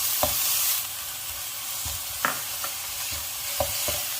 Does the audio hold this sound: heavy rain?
no